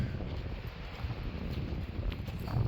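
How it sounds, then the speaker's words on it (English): Steady low wind rumble buffeting the microphone outdoors on a sunny Arizona afternoon, continuous and fairly loud, with no voices. "Windy, cool breeze, hot sun."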